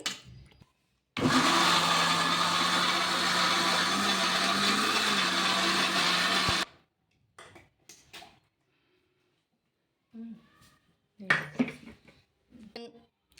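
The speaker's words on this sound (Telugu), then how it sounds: "నీళ్ళు వేసుకొని మిక్సీ అయితే పట్టేసుకుందాం" A mixer grinder grinds dosa batter with water, running loudly and steadily for about five seconds, then stops; scattered clatter and handling noises follow.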